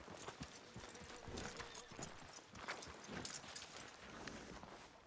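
Horse hooves clip-clop at a walking pace in the Red Dead Redemption 2 video game, a steady soft rhythm of repeated steps heard throughout, moderately close, with low background ambience.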